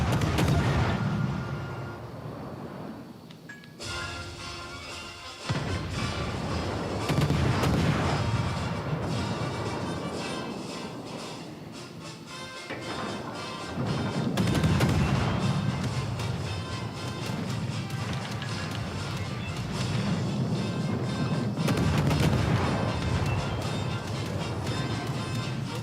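Warship gunfire in World of Warships: Legends booms and crashes repeatedly through a dense, continuous battle din of heavy reports and rumbling impacts, loud and sustained, with faint game voice lines mixed in.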